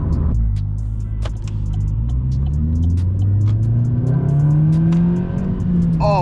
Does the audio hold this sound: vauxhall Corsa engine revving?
yes